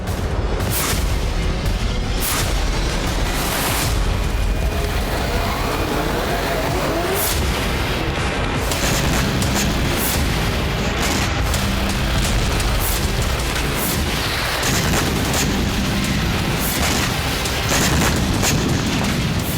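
Missile and drone strikes hitting Russian brigade bases in Voronezh and Tambov, a dense continuous roar with repeated booms and blasts, loud and distorted throughout.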